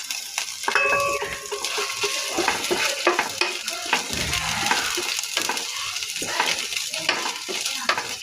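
Garlic and ginger paste frying in a pan with black cumin, giving a steady sizzle with frequent spoon scrapes and stirring taps, plus a brief tonal chime near the start.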